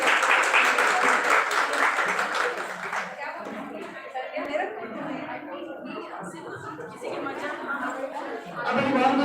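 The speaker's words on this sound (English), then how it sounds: "We have a new round of applause for Tabassum ma'am." Applause from an audience at a Teachers' Day event, a dense burst of clapping at the start that thins into scattered claps and chatter, then swells again briefly at the end.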